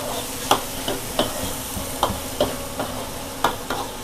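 Beef stir-frying with oyster sauce in a busy food-stall wok gives a constant close sizzle punctuated by sharp, roughly regular scraping clanks of the spatula, with no talking.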